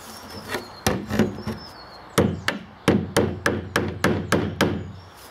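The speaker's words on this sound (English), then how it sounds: "Use the hammer and knock it in" Sharp metallic hammer strikes knocking a pin out to remove a lid, a couple of isolated hits and then a steady run of about eight evenly spaced blows, close and loud.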